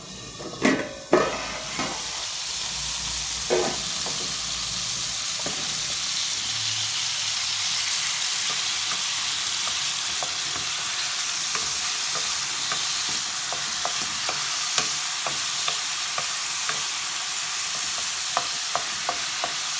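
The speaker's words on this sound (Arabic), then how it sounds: "غنخليها تقلى شي شويه حتى تشد راسها" Kefta meatballs frying in a pan, a steady broadband sizzle running throughout with a few sharp clatters of utensil against pan near the start and scattered small pops; close and continuous, no talking.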